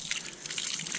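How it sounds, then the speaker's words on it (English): Water from a dammed source gushing out of a pipe outdoors, a steady splashing, rushing flow with bright bubbling texture, close but fairly soft, with no talking over it. "this pipe of water here"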